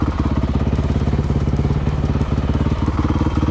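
A motorcycle engine idles close by, its loud, quick, even pulses thumping out a steady throbbing rhythm with light mechanical clatter and no voices.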